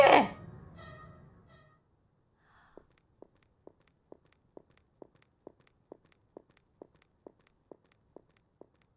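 A breathy sigh, then a steady series of soft, evenly spaced footsteps in a horror video game, about two per second, walking at a measured pace in a quiet space.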